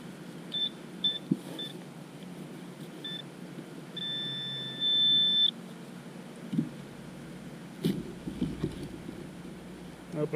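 A Nokta Simplex metal detector beeps on a buried target outdoors: several short, clear tones, then a longer sustained tone, over faint wind and rustling with some handling noise.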